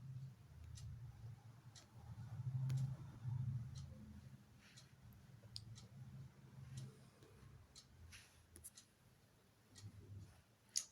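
A pen scratches on paper while a diagram of the excretory system is drawn and labelled, giving faint, scattered ticks and short strokes at close range over a low background hum.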